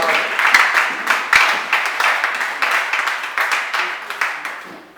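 A church congregation at a French-language worship service applauds the Lord, steady, moderately loud clapping from many hands that keeps up throughout and slowly thins toward the end.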